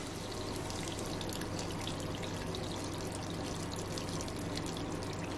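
Water rushing steadily into an RV washing machine as it fills, a continuous dense hiss and splash at constant level throughout, close by and without talk.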